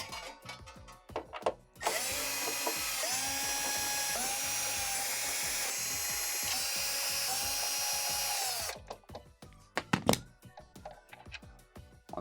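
A power driver whirs steadily for about seven seconds, backing out the 1/4-inch screws around the perimeter of a Whirlpool Swash blower housing, with clicks and handling knocks before and after.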